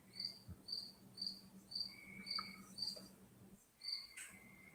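Crickets chirp at night outdoors in steady, evenly spaced pulses, a rhythmic insect trill heard from a moderate distance over faint background noise, with no talking.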